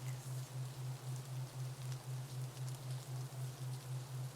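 Steady rain falls with a dense, even hiss, joined by a low, pulsing hum beneath it that throbs in a regular rhythm.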